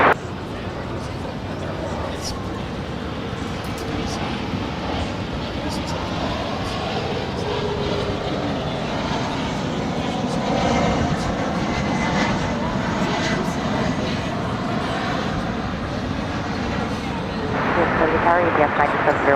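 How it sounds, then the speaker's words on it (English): A UPS Boeing 757 arriving from New Orleans on approach to Dallas Fort Worth International Airport, its steady jet roar broad and sustained throughout, swelling slightly near the end, with people talking over it. "that UPS 757 coming in from New Orleans"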